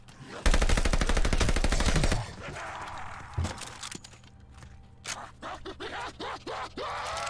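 Automatic gunfire in the video game Call of Duty: Vanguard: a loud, rapid sustained burst for about two seconds, then quieter scattered single shots and clicks.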